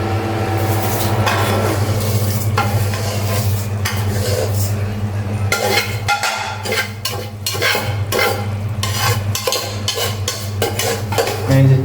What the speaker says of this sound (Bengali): আমি যে চাল মিক্সড করে দিয়ে দিয়েছি